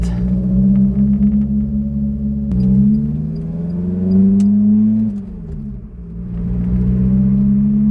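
A cold car's engine idles with a steady low hum on a winter road, then rises and falls in pitch through a couple of gear changes as it pulls away. Close and loud, no voices.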